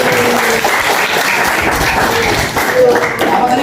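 A classroom of junior high students clapping hands together in a lesson, dense steady applause at close range with voices mixed in.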